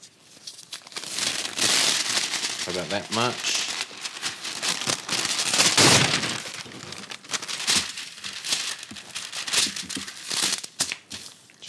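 Baking paper crinkles and rustles loudly as it is handled for a sourdough loaf, crisp crackling bursts coming in waves, with a person speaking briefly over it.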